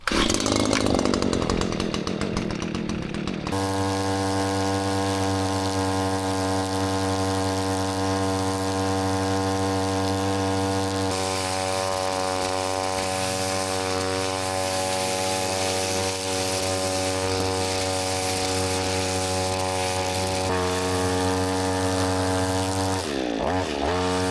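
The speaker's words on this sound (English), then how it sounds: "So I'm gonna hop on the weed whacker and we're gonna get going." A gas string trimmer cutting grass around condos runs at high, steady revs, a loud buzzing two-stroke drone that shifts in pitch as the throttle changes, close by and with no speech.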